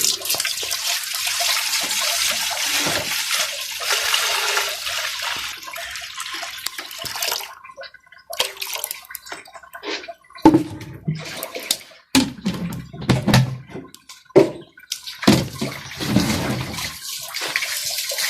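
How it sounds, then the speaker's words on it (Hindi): Water streams steadily into lassi in a cooking pot for kadhi pakora, giving a continuous close splashing pour. Intermittent gurgles and splashes follow, with no talk. "इसमें हम थोड़ा सा पानी ऐड करेंगे"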